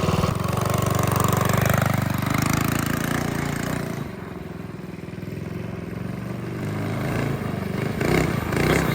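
A small engine on a $160 custom go-kart built from a rusty frame buzzes loudly and steadily during a test ride, its pitch dipping and rising as the kart slows and speeds up.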